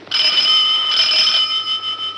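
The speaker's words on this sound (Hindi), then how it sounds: "उधर जस्टिस देसाई के घर में फोन की घंटी बजी" A telephone bell rings in a judge's house, a bright continuous metallic ring that sounds clearly and alone, fading and swelling slightly over about two seconds.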